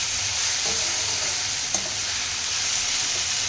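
Spices stirred in a hot pan for an eggplant dish, turmeric and coriander powder among them, with a steady close sizzle and a soft scraping stir throughout and one brief sharp clink midway.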